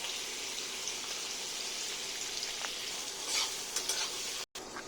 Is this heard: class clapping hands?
no